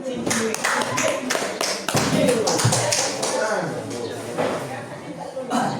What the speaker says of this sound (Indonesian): Kasih tepuk tangannya juga.